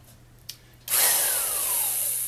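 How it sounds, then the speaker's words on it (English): An old-fashioned corded power drill whirs up to full speed after a brief click, then runs at a loud, steady high-pitched whine close by, with no talking. "The other thing that happens with one of the old-fashioned powered drills like this one,"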